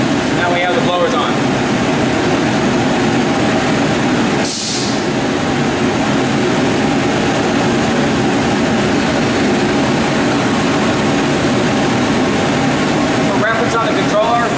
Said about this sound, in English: Now we have the blowers on.